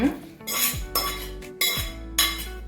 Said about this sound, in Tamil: சால்ட் போட்டு கலந்துக்கலாம்.